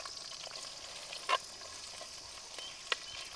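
Small onions and ginger fry in hot oil in a pan, giving a soft, steady sizzle with a couple of sharper clicks and pops, quiet and close with no voices.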